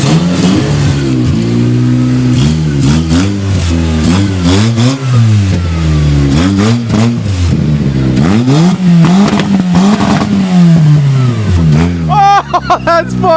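A car fitted with a cold air intake revs hard again and again, its loud engine note climbing and falling in repeated sweeping bursts, close by, with a brief voice near the end.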